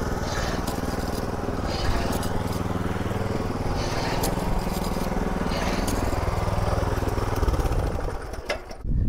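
A Dfarm mini power weeder's small engine runs outdoors, a loud, steady droning putter with rattling mechanical clatter throughout, holding at an even level before dipping briefly near the end.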